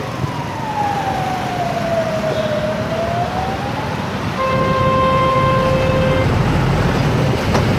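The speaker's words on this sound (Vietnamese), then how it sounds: "Xe cảnh sát" Police car siren on a late-night street in Saigon, a loud wailing tone that sweeps down and back up, then steady higher horn-like wails over constant traffic rumble, with no talk.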